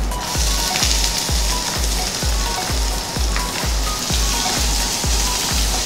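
Onion sautéing in a hot pan with chilies and ginger for ragi upma, a steady loud sizzle and crackle with rhythmic spatula scrapes against the pan repeating about twice a second, no talking.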